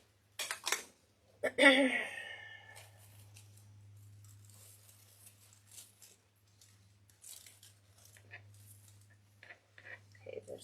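Scissors snip flower stems while a winter mailbox swag is being assembled, a few quick close cuts near the start followed by soft handling and rustling noises, with a low hum and a brief spoken word.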